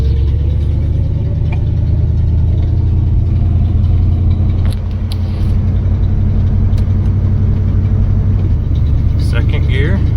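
A 1972 AMC Ambassador pulling away in first gear, its engine a loud, steady low drone with a mechanical whir that holds throughout, recorded from inside the car while someone talks over it.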